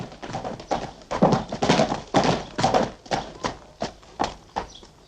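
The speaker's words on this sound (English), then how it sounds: "I hear something too, but it is not a boat. It's horse hooves, Alice." Horse hooves clip-clop in a steady trotting rhythm, each strike a sharp, fairly close knock, with the pace easing and thinning toward the end.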